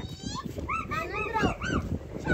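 A pet dog named Sagar whimpers and yips in a series of high, wavering cries close by, with people talking in the background.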